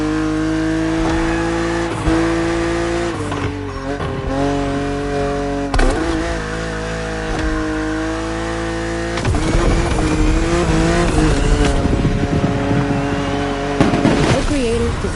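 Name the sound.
BMW car driving in the video game The Crew Motorfest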